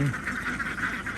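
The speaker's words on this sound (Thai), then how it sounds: "วันนี้เรามาส่งเป็ดนะครับ" Repeated nasal quacking from a group of ducks, a steady chorus of overlapping calls close by with no pauses.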